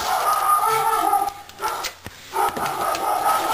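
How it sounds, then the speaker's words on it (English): Dogs bark and yip in a scattered series of sharp calls, some overlapping, at moderate distance. "sorry about the dogs"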